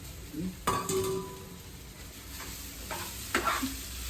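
Poha being stirred in a hot pan gives soft scraping strokes and light clinks over a faint sizzle, with a few quiet voices in the background.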